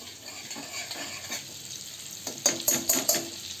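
Butter melting and sizzling in a pan for paneer butter masala, a soft steady sizzle with light stirring scrapes that grow louder and busier toward the end, no voices.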